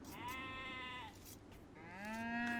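Two drawn-out bleating moos from livestock in Age of Empires 2, one after the other, close and clear over a quiet game background with no talk.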